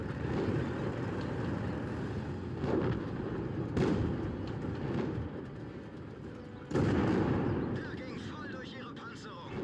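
Rumbling tank engine noise in World of Tanks with a few heavy booming cannon blasts, one especially loud near the end, while a voice talks over it.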